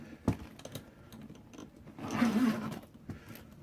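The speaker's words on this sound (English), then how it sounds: "And the zippers all work fine" A zipper on the case of a 1960s Italian-made Olivetti Underwood Lettera 32 manual typewriter is pulled in one short, raspy run, preceded by a few soft handling clicks and knocks.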